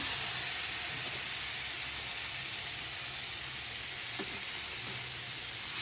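Tomato drops into a sour vegetable curry on high heat, giving off a dense, constant loud sizzle and hiss with one or two faint clinks and no talking.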